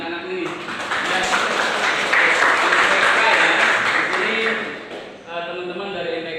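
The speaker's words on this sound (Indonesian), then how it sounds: "oke tepuk tangan untuk anak-anak ini" A school audience claps for a group of children at an assembly, a steady, loud burst of applause lasting several seconds, with voices mixed in before it tapers off.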